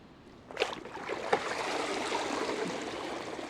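A Lydsto wall-climbing robotic pool cleaner comes up out of the pool with a couple of sharp splashes, then water pours and trickles steadily off it, fairly quiet and close.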